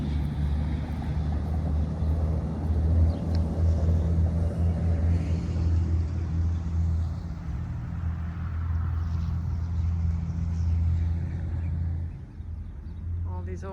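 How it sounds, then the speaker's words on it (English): Road traffic rumbles in the background at the Fort Smith National Historic Site in Fort Smith, Arkansas, a steady, low, distant wash of passing vehicles that continues throughout, with occasional voices over it. "Hear the traffic in the background."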